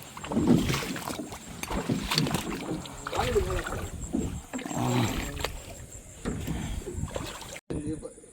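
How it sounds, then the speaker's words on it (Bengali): A small fishing trawler's engine drones steadily on the water, with people talking over it and light splashing now and then. "আমরা সোজা আদার বাজার থেকে ছোট্ট একটি মাছ ধরা ট্রলারে করে রওনা দিব"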